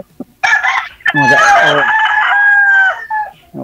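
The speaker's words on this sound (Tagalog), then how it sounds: "Madami yung mga manok dito talaga." A rooster crows loudly and close, one long drawn-out call, with brief clucks from chickens just before it.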